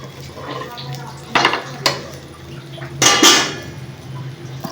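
A pesarattu, a mung bean dosa, gets flipped in a pan with a few sharp metallic clanks and scrapes of the spatula against the pan, spaced over a few seconds above a low background hum.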